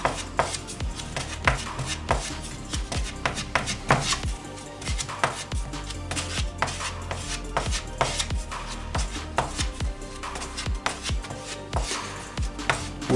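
Quick-dry wood filler being mixed with hardener: a steady run of close, rapid scraping and tapping strokes, fairly even in pace for the whole stretch, with no talking.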